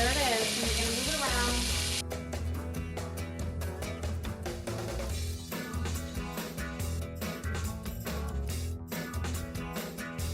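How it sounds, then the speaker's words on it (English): Pork pieces frying in hot oil in a pan for a peanut-sauce stir fry, a loud steady sizzle that jumps sharply when the meat goes in, with stirring and scraping underneath. "I'm gonna put all of our pork in here."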